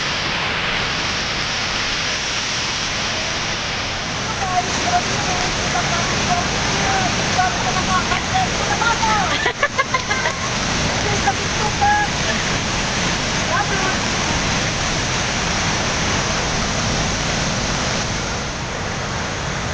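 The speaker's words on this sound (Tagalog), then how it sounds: "dito na kami mismo sa may buwangan ng falls" Kapati Falls pours down near its base, a steady, broad rushing roar of falling water that never lets up, with a few brief voices and knocks under it.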